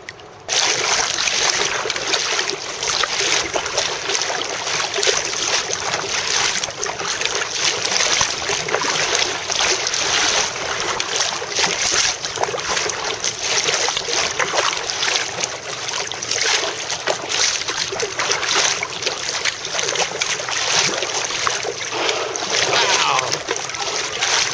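Paddling a kayak on the sea near orcas: continuous water splashing and sloshing with rhythmic paddle strokes, close and fairly loud throughout, over a steady broadband wash.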